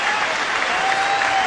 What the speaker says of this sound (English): And the crowd gives him a standing ovation.